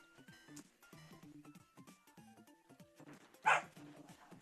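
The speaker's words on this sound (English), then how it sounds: "My dog's going off on one." A dog named Buster barks in a few sharp bursts over other indoor sound, with one loud bark standing out near the end.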